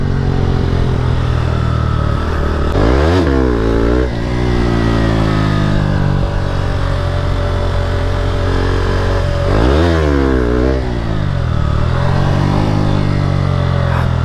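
A Yamaha R15 motorcycle engine revs hard and loud close by during a wheelie attempt, holding a high droning pitch with two sharp rising-and-falling rev sweeps and no talk.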